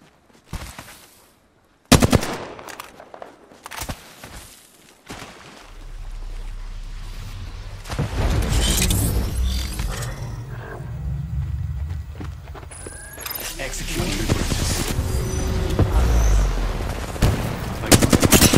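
Gunfire in a shooter match: a couple of sharp isolated shots after near silence, then growing bursts of machine-gun fire and loud rattling volleys that build steadily toward the end.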